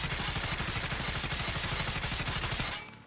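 Submachine gun in the mobile shooter Call of Duty Mobile fires one sustained rapid automatic burst for nearly three seconds, loud and close, then cuts off abruptly.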